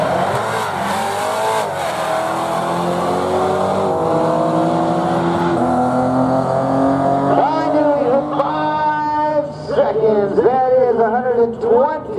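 At the Barona drag strip, a 2017 Dodge Charger and a BMW launch, engines roaring and rising in pitch through gear changes, with tires squealing and an announcer talking over the racket.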